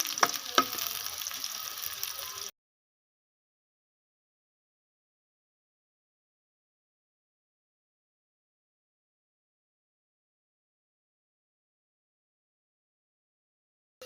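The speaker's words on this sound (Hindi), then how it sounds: "घी गर्म हो चुका है तो प्याज हरी मिर्च शामिल करेंगे।" Faint sizzling of onions and green chillies frying in hot ghee for a couple of seconds, then long silence.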